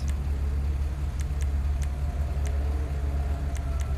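A Fathom FR36 drift car with a drift kit in GTA Online rumbles low and steady at idle, a continuous engine drone with a few faint high ticks over it.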